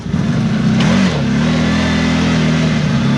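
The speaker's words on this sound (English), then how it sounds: "It sounded like the sound you make when you're like in between gears, but it's all the way in low." CFMOTO Z-Force 950 HO EX UTV engine droning loudly up close in low range, an odd slipping whine as if caught between gears, steady and sustained with no talking.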